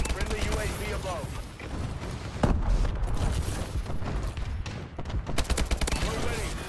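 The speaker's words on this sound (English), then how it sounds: "Friendly bombing run clearing the way." A friendly bombing run in Call of Duty: dense rapid gunfire and heavy booming blasts over several seconds, loud and continuous, with voice chatter in the game mix.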